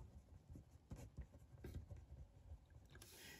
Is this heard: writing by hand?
yes